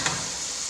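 Carrots sautéing in a pan for fried rice, a steady, even sizzle that holds without a break and stays fairly quiet, with no voices over it.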